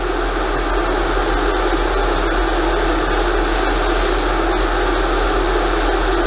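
An airbrush sprays weathering paint onto a model steam locomotive, giving a steady, loud, even hiss of compressed air that runs unbroken with no voices.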